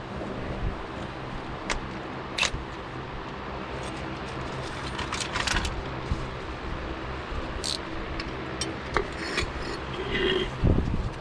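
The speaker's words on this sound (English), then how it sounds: "So I'm just using a wrench." A wrench works on the rear shock of a 2008-2017 Buick Enclave, making repeated close ratcheting and rasping clicks over a steady background hum, with sharp metallic ticks scattered throughout.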